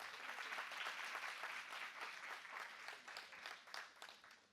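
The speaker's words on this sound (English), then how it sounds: "Let's give them a round of applause," Conference attendees at a sustainable business forum give a round of applause, a faint but dense, continuous clapping from a sizeable crowd that rises and falls slightly.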